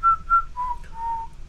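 A person whistles a short tune of four sustained notes, the first two higher and the last two stepping lower, each clear and close with brief gaps between them, heard alone against a quiet background.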